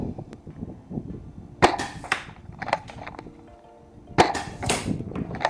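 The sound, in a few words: shots fired from XYL KM9 Unicorn blaster at target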